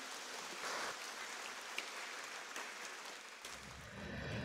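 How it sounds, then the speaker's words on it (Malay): Steady, soft applause from an audience at a Catholic church talk on Marian devotion, a dense even patter heard at a distance that lasts the whole stretch without a break. "kita memberi satu tepukan"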